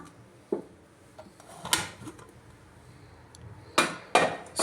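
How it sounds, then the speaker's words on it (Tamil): A pressure cooker lid is opened after the pressure has been released, giving a few scattered metallic clanks and clicks in a quiet kitchen, the strongest two close together near the end. "இப்போ அதை ஆஃப் பண்ணிவிட்டு ப்ரெஷர் நல்லா ரிலீஸ் ஆகிடுச்சு திறந்து பார்க்கலாம்"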